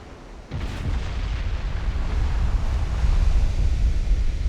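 Battleship 12-inch guns fire in an 1893 naval campaign game: a sudden heavy blast opens, then a sustained low roaring rumble rolls on and swells slightly without letting up.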